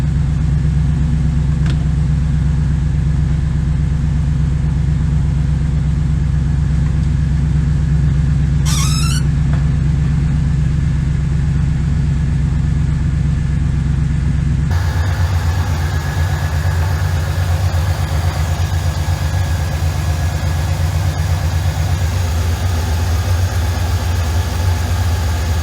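A 1996 Chevrolet LT1 V8 fitted with TorqHead cylinder heads idles too high, a steady, loud, low rumble with a brief squealing chirp partway through; the drone shifts and roughens midway as the idle changes.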